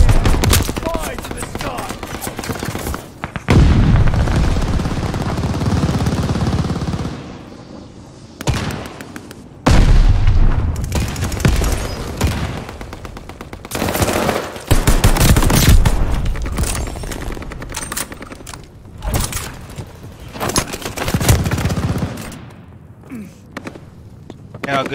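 Gunfire blasts skyward in Call of Duty Vanguard during a live-streamed match, loud sustained automatic bursts broken by short pauses, with rapid crackling volleys repeating over about twenty-five seconds.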